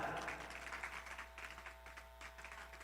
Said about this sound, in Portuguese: Palmas para Flávia Aranha